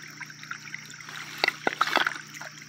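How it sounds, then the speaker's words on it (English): Shallow creek water trickles and dribbles faintly nearby, with soft gurgles and a brief cluster of small splashes toward the middle. "have a better path for the water to flow"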